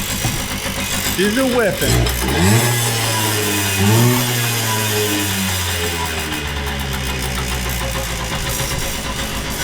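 An old barn-find Kawasaki dirtbike engine runs steadily throughout at a rough, loud idle, with its pitch rising and falling briefly as the throttle is blipped early on, and someone speaks over it.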